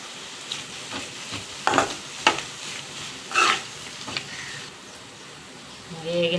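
Ivy gourd and fresh coconut stir-fry in a pan, giving an ongoing sizzle. Several loud scrapes and clanks of a spatula against the pan come in irregular bursts, and a brief metallic ring sounds near the end.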